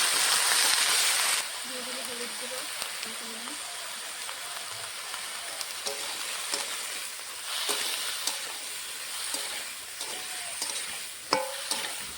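Vegetables frying in a pan with cumin and green chilli for a chorchori: a steady, close hiss of sizzling oil with occasional stirring scrapes, and a voice speaking briefly over it early on.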